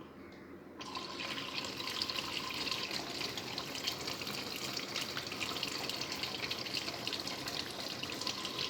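Water starts abruptly and then pours steadily into the tub of an Innovex DSAN-65 semi-automatic washing machine, a continuous close splashing rush with no speech.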